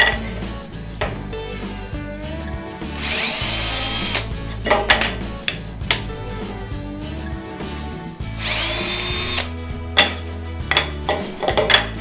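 A power drill pre-drills screw holes in wood from the legs of a table, whining in two sustained high-pitched bursts amid clattering workshop handling noise.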